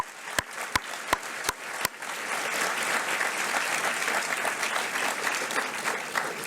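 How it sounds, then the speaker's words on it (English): A high school awards ceremony crowd claps for the school staff: a few sharp single claps, then a dense, steady wave of applause that fills the room. "how about a big round of applause for our spectacular staff at Goffstown High School?"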